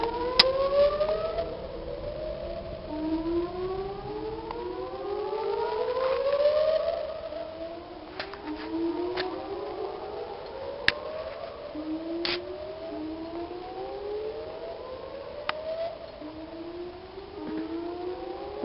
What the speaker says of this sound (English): they're testing the sirens here in Louisville, Texas